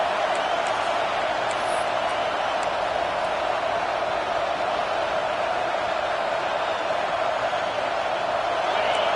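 A packed college football stadium crowd roars on a fourth-and-goal play, a loud, unbroken wall of cheering that holds steady at full volume from start to finish.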